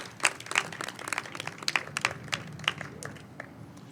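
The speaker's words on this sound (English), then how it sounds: "Let's give them a round of applause." An audience at a county honors ceremony claps for the county team in a scattered, moderately loud burst of separate hand claps that thins out over a few seconds.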